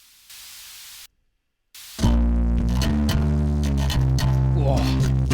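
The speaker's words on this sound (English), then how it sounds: "Now obviously that hiss is unbearable" Steady hiss from the Waves Abbey Road saturator plugin plays alone at first, drops briefly to silence, then sits under a loud, dense music mix that starts suddenly.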